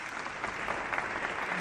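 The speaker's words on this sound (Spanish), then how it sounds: "Para él os pido también un aplauso," A studio audience at a televised mystery program breaks into steady, dense applause, many hands clapping together at an even level with no voices on top.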